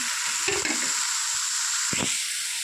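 Capsicum, cabbage and carrot stir-frying in a pan give a steady bright sizzle, with a couple of scraping stirs of a spatula near the start and again near the end.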